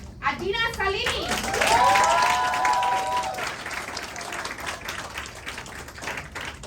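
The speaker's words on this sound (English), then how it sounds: "Round of applause" An audience at a poetry slam grand final claps in steady, sustained applause, with a voice and some whoops rising over the clapping before it tapers off.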